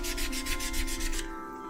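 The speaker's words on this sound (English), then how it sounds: "get some sandpaper out and sand the shape" Quick rhythmic sanding strokes, about nine back-and-forth rasps of sandpaper on a wood carving, then they stop and only a faint hum remains.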